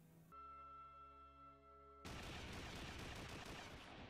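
Gunfire in an anime episode: a dense, loud barrage of rapid shots bursts in after a sustained tonal hum and keeps going without pause.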